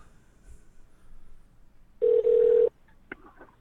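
A telephone rings once with an incoming call, a loud steady tone burst lasting under a second, followed by a couple of faint electronic blips; no one speaks over it.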